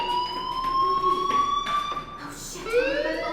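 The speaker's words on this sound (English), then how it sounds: "Hey, do you hear that fire alarm?" A fire alarm rings in the video game Life is Strange, a steady tonal electronic wail held under game ambience, with a shift in pitch near the end as another sound rises.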